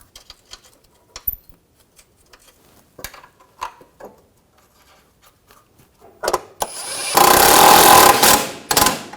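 Nuts are threaded onto a brace under a 2013–2022 Chevrolet Trax 1.4L during a vapor canister repair. Sparse metallic clicks and taps come first, then a loud, close burst of tool noise sounds near the end.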